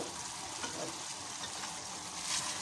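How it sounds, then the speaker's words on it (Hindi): Yogurt being stirred into browned chicken frying in a pan, a steady broadband sizzle with faint stirring scrapes throughout, close and alone. "देखिए इसमें मैं योगर्ट मिक्स कर रही हूँ।"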